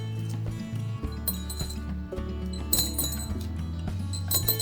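Whole cloves dropped into a glass bottle, several light clinks and small taps against the glass, close and fairly soft, spread out over a few seconds.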